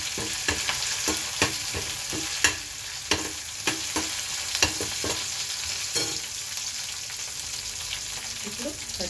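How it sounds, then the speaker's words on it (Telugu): Chopped green chillies and onions fry in a pan with a bright, continuous sizzle, punctuated by regular taps and scrapes of a spatula stirring them, close and fairly quiet. "ఇప్పుడు కట్ చేసి పచ్చిమిర్చి, ఆనియన్స్ కొంచెం ఫ్రై చేస్తున్నాను"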